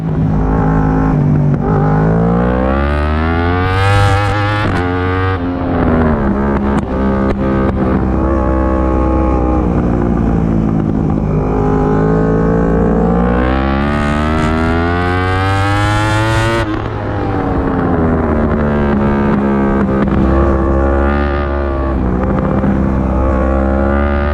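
Motorcycle engine in a racing video game, revving hard with rising and falling pitch sweeps as the throttle opens through gears, loud and continuous with no talk.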